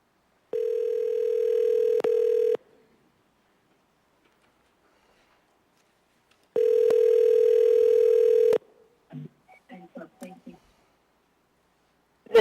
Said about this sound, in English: And so, Travis, would you go ahead and call Ms. Holmes?